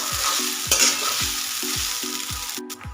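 Sabudana khichdi is stirred in a sizzling frying pan, with a spoon scraping through it in a steady rhythm of strokes roughly every half second over a constant close frying hiss.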